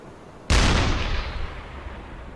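A single heavy deck-gun shell strikes a ship in the UBoat submarine game, landing as one sudden loud boom with a long rumbling, crackling decay that fades slowly afterward.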